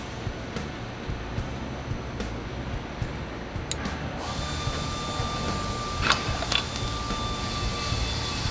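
A 9/16 ratchet wrench loosening a pinch bolt on the 39mm front forks of a 1999–2005 Harley-Davidson Dyna motorcycle, with series of quick, close clicking ticks in short runs and a few sharper metallic clinks.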